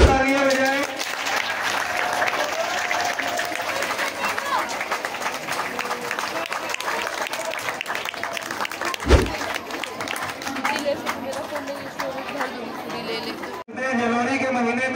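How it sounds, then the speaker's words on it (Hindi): Audience at a school prize ceremony applauds as a student receives a trophy, dense sustained clapping mixed with crowd chatter and a background voice, a brief thump midway and a short drop near the end. "जोरदार तालियां बजाएं।"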